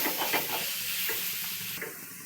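Pithla, a thick gram flour batter, stirred and cooked in a pan, with soft rhythmic scraping strokes over a continuous hiss of sizzling, close and clear with no talking.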